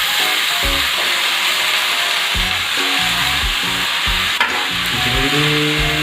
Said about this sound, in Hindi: तेल हो चुका है, तड़का हो चुका है तैयार, और इसमें हम ऐड करेंगे भिंडी।